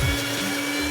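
A poor-quality blender whirring through strawberries, sugar and water, a loud, steady motor drone with a constant hum across the whole short span.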